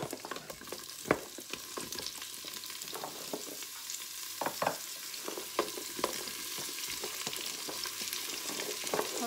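Leeks and carrots sweating in olive oil in a Cookeo pot, a soft continuous sizzle broken by scattered stirring scrapes and clicks, fairly faint and close.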